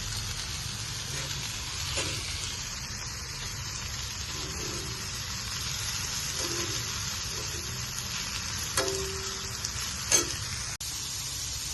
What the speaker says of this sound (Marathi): थोडेसे तेलामध्ये परतून घेते, हलकं हलकं ब्राऊन होईपर्यंत.